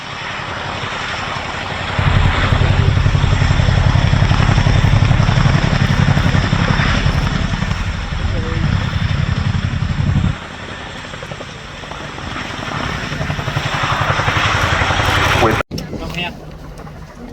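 A military helicopter at an airshow flies back in to drop off an underslung load, its loud rotor and engine roar filling the air, swelling strongly for several seconds before easing to a steadier drone.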